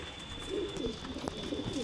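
A blue Kota pigeon coos softly in a loft: low, rounded murmurs repeat in a loose rhythm, close by and fairly quiet over a steady background hum, with no one talking.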